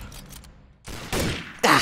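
Bursts of gunfire from a weapon in the shooter game Trouble in Terrorist Town, three loud close shots or short volleys rising in force, separated by brief gaps.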